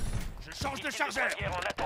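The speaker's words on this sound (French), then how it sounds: "Je change de chargeur" A magazine reload in the shooter game Call of Duty: Modern Warfare III: clicks and metallic creaks as the magazine comes out and goes back in, close and clear, with faint game sounds behind.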